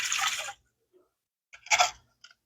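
Water poured from a pan into a canning pot comes in two short splashing pours separated by a quiet pause, close and fairly soft.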